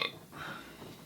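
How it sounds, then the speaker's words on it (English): A single short, faint burp from a person on a solo podcast, a brief low gurgle lasting about a second in an otherwise quiet room. "I got a burp."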